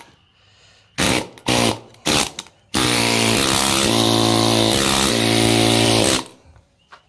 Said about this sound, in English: which is a air chisel with a pointy bit in it